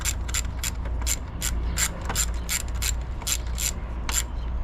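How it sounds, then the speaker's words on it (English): A 1/4 inch ratchet with an 8mm socket and extension clicks in steady, evenly spaced strokes on a V6 Ford Mustang thermostat housing, close and distinct over a low background hum. "I went down to a smaller ratchet size. I went down to 1/4 inch."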